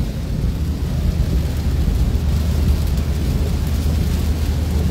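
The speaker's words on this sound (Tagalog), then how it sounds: "Lakas po ng ulan." A heavy downpour roars steadily and loudly, with a deep rumbling undertone and no voices.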